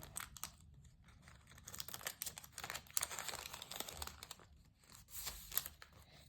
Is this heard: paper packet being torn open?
yes